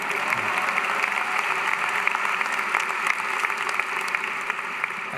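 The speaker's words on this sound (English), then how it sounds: "that's worth an applause" A commencement audience at the University of Central Florida applauds the acting director of NASA's Kennedy Space Center; dense, even clapping from a large crowd in a big hall, steady for the whole stretch.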